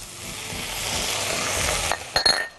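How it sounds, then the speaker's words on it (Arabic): Okra being stirred as it fries in a pot, giving a steady close sizzle and crackle that ends in a few sharp clinks of a utensil against the pot. "هاخد الباميه نفسها هنزلها وهنقلبها تقليبه حلوه كده"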